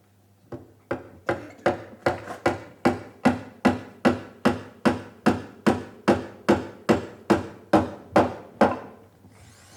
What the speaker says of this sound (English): Sounds like lots of hammering